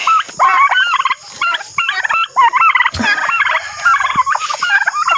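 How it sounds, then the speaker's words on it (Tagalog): Several turkeys on a free-range farm gobble loudly and repeatedly nearby while being fed bananas, their warbling calls overlapping in quick succession, with a brief dog-like yelp mixed in. "bibigyan din natin yung mga pabo ng saging"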